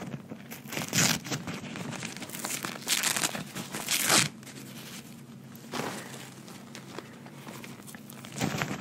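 Tissue paper is ripped by hand into small pieces for candle making. The sound is close and soft, a run of papery tearing and crinkling bursts with short gaps between them and no talking.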